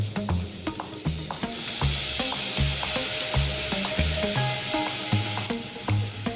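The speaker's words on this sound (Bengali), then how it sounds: "এটাকে আবার ভালো করে আমরা মিক্স করে নেব।" Egg pasta being tossed with soy, chilli and tomato sauces in a hot pan, loud close sizzling broken by rhythmic scraping and clacking of a spatula against the metal, steady throughout with no voices.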